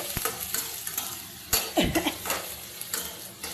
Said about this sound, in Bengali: এরকম নেড়ে চেড়ে কষিয়ে নেব